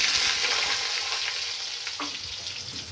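Potato pieces hit hot oil seasoned with bay leaf and whole dried chillies, giving a steady, close sizzle that fades slightly as they fry, with a faint stir near the end.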